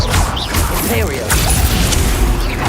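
An Imperio spell is cast in the video game Hogwarts Legacy, loud swishing and whooshing effects with thuds and clattering impacts amid a busy, continuous battle din.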